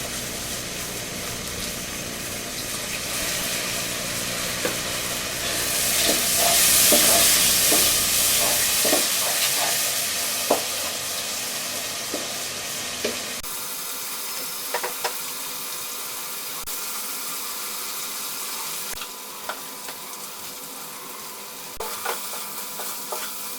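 Steady sizzling of beef frying with ginger-garlic paste and spices in a pan for beef rezala, with intermittent scraping and clinks from stirring, fairly loud at first and then quieter.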